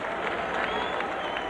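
Crowd applause and cheering fill a college basketball arena during a free throw in an NCAA tournament game, a dense steady roar with clapping, and a voice talks over it.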